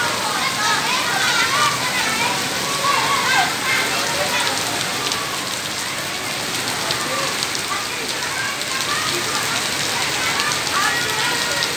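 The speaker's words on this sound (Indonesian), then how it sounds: "suasana hujan ya" Heavy rain pours steadily onto wet floors and stairs, a dense continuous hiss that stays loud and unbroken throughout, with a voice speaking over it.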